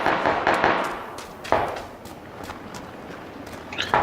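Gunfire in the battle royale game PUBG: a few sharp, distant cracks in a quick cluster early on, then another shot and scattered softer pops amid faint footsteps.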